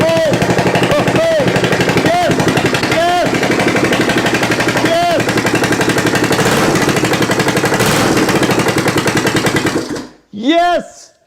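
A vintage Norton 850 motorcycle engine, jump-started after its starter button failed, fires and runs in a loud, rapid, hammering rhythm close by with a few sharp revs, then cuts out abruptly as a voice cheers at the end.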